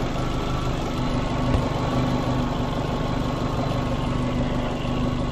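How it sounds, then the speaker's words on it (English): A Fiat Panda 100hp idles steadily while its loose heat shield on the broken exhaust buzzes and rattles, a constant low drone with metallic vibration and no talk. "That's the heat shield, the exhaust is broke, so that's what's vibrating there"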